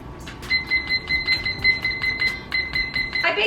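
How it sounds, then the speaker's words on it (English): A kitchen timer goes off while banana chocolate-chip muffins bake, giving loud, rapid, evenly pulsing electronic beeps that repeat without pause for several seconds. "Timer's done"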